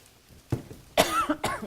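A person coughs several times in quick succession, close and loud, while cooking with ginger flakes stuck in the throat; short harsh bursts with brief gaps between them.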